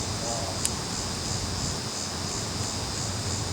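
Honey bees buzz steadily inside a truck tire during a barehanded removal, a dense, continuous hum with a faint higher whine, close and unbroken with one brief click.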